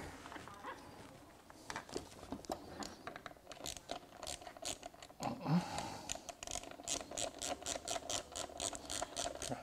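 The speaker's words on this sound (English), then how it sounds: "Tighten up this bolt." A socket ratchet wrench tightens a bolt on a clamp, starting with scattered clicks and then settling into a steady, rapid run of close, crisp ratcheting clicks through the second half.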